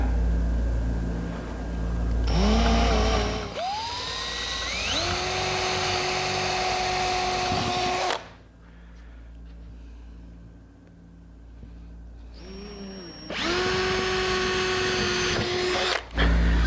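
A power drill bores into wood during work on a hanging cupboard in a woodworking shop. Two long, loud runs of whirring motor whine each rise in pitch, with a quieter pause between them.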